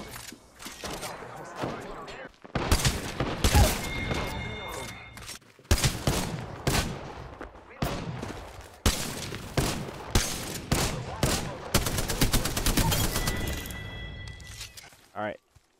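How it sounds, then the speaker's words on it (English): Gunfire in the video game Apex Legends comes in repeated bursts of rapid shots and cracks, loud and close, with short pauses between volleys. "I am taking fire, friends"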